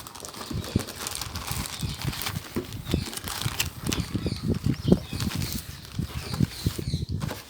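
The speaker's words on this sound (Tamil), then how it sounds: "இந்த கவர் பேக்கிங்குள்ளே ஜிப்லாக் பேக்கில்" A ziplock bag inside the plastic cover packaging of an Infinity PRIMUS 1270 12-inch subwoofer is handled close up, with continuous rustling and rapid crinkly bursts that swell and fade, alone without talk.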